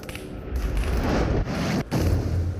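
Probe beams burst in a space video game with a dense booming explosion, a rumbling low roar that swells and holds, broken by a couple of brief sharp dropouts.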